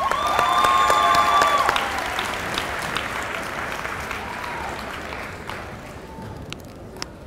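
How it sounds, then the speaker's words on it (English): Applause from a commencement ceremony audience: dense, loud clapping that gradually thins and fades to scattered claps. "Give yourself a round of applause."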